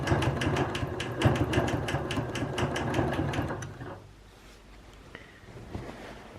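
A sewing machine free-motion quilts flower and leaf shapes, its needle hammering in a fast, steady rhythm for several seconds before it stops abruptly and leaves a quiet hum.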